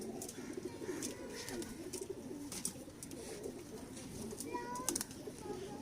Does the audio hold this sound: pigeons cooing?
yes